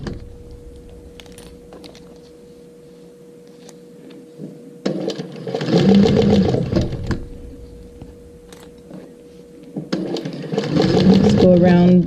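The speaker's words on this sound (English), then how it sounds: "I'm just going to go all the way around with this top stitching" A sewing machine topstitches a vinyl strap in two loud, steady whirring runs separated by a quieter pause, with a person talking throughout.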